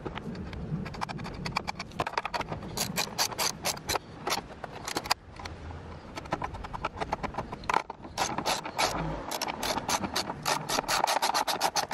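A ratcheting tool clicks in quick, uneven bursts while a battery is screwed into place, close and fairly loud, with a few short pauses between runs of clicking.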